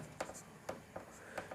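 A few soft, brief scratching strokes of writing on a board during a math lesson on cones, heard faintly while a teacher speaks Hindi.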